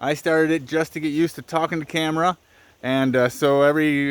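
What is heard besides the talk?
None of the usual background noises is heard.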